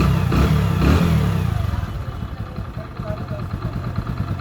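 A Hero Splendor Plus i3s motorcycle engine starts and settles into a rapid, even putter, a close mid-pitched thump with slight revving swells after a rougher burst at the start.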